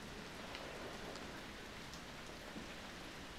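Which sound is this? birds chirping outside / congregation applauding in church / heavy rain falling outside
heavy rain falling outside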